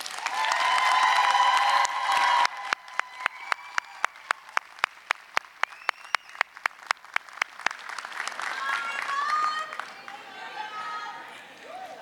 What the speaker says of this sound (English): give your family and friends a round of applause